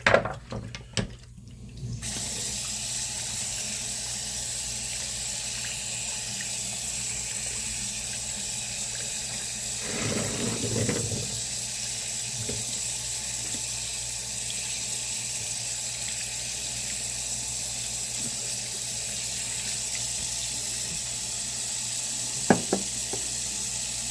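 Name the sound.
washing sharpening stones under running tap water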